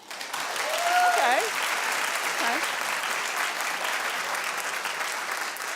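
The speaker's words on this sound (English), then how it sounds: "You can clap if you..." Studio audience applause at a daytime talk show, a loud sustained wash of clapping filling the room, with a brief spoken word over it.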